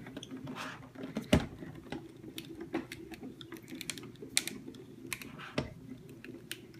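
Crisp crackling and clicking sounds, with a few sharper cracks and thumps, close by and irregular, as an embossing plate is run through an embossing machine's rollers.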